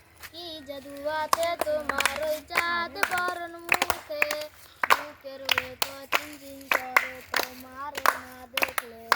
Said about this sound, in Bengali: তোমরা তার গানের সঙ্গে সঙ্গে আস্তে আস্তে তালি দিবা